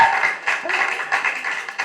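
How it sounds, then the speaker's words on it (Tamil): Clapping hands from an audience at a dance school inauguration, with irregular bursts of applause rising and falling throughout the short stretch. "பெரிய கைத்தட்டல் கொடுங்க"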